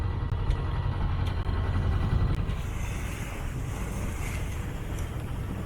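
A sailboat motors into a headwind near Marseille, its engine a low, steady rumble beneath gusting wind buffeting the microphone and waves slapping the hull, with no one speaking.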